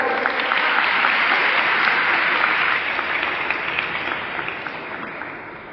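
Sustained applause from an audience at a Mother Language Day celebration in a college hall in Junagadh, a dense, steady clapping that fills the whole stretch, loud at first and tapering slightly toward the end, with no talk over it.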